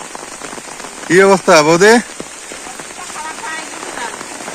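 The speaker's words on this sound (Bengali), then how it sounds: "ঝিরঝির করে বৃষ্টি পড়তেইছে" Light morning drizzle patters steadily on surfaces near a river, a soft even hiss throughout, while someone speaks a brief greeting partway through.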